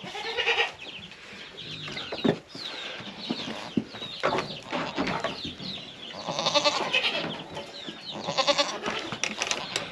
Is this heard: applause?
no